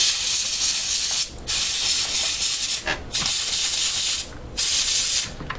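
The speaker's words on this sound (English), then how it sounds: "you're going to go ahead and blow out your controller ports very well" Compressed air blasts into the controller ports of a Nintendo GameCube, a loud broad hissing spray in several long bursts separated by brief pauses.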